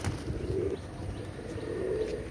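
Soft pigeon coos repeat twice, low and murmuring, close by with a faint background hum and no talking.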